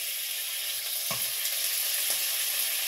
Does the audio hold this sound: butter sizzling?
yes